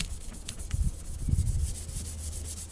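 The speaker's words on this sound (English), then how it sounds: "we're going to take an ultra-fine scuffing pad" An ultra-fine scuffing pad rubs over a car valve cover in quick, soft back-and-forth strokes, faint and close, with low handling thumps beneath.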